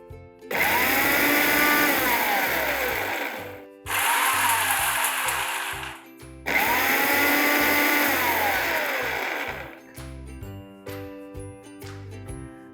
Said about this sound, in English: that's the whole fun and beauty of grinding this using the pulse switch of the mixer